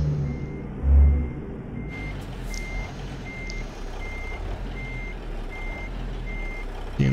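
Reversing beeps sound from a 379 truck in American Truck Simulator, a steady series of evenly spaced electronic tones over a low idling engine rumble, with an air hiss near the start.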